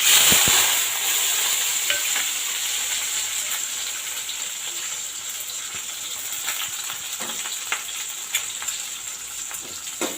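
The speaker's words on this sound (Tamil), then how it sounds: "இதை வந்து நல்லா கிளறி விட்டுறலாம் இப்போ வந்து இந்த வெங்காயம் வதங்கட்டும்" Shallots and a sprig of curry leaves fry in hot oil in a pan for tamarind kuzhambu, a steady bright sizzle running throughout with occasional clinks and scrapes as they are stirred.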